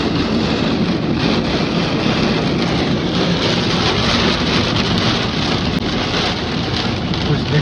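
Heavy rain pours steadily on a road trip along India's NH16 highway, a dense, continuous hiss and patter that stays loud and close throughout.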